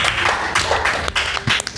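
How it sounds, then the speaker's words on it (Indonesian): An audience at an Indonesian band competition claps briefly, uneven bursts of hand claps with some thumps and a low background hum, less than two seconds long. "Kita kasih tepuk tangan dulu."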